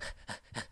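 Comic-dub voice actor panting as a skeleton character: three quick, breathy, close-miked pants in an even rhythm, voiced imitation of heavy breathing.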